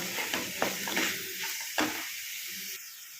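Capsicum and tomato curry with turmeric and salt stirred in a pan, soft sizzling with a few quick scraping strokes, heard close and quiet and growing calmer toward the end.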